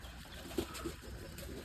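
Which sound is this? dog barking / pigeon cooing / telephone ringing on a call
pigeon cooing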